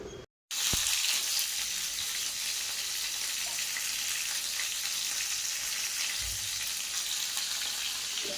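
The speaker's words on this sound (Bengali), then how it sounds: "এদিকে আমি পটল ভাজা করছি" Pointed gourd (potol) fries in a pan with a continuous, even hiss of hot oil after a brief silence at the start, with a low thump near the end.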